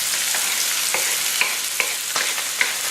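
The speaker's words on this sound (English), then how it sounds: "So now I'm going to add the onion in it." Chopped onion hits hot oil in a small pan while cooking meat and rice stuffed peppers. It gives a steady, close sizzle with sharp crackles and pops every half second or so, and nobody speaks.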